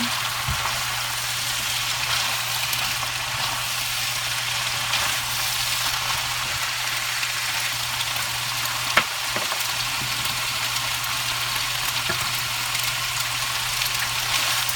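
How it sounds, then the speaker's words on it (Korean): Continuous hissing sizzle of noodles stir-frying over high heat in a pan with cabbage, garlic, onion and pollock roe, with an occasional sharp clink of a utensil and a low steady hum beneath. "아까는 약한 불이었는데 이제 센 불로 해서 어, 면을 한번 볶겠습니다"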